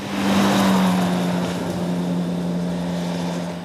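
The engine of a 2008 Kawasaki ZX-6R sport bike holds a loud, steady high-rpm drone that stays close and constant, with no speech.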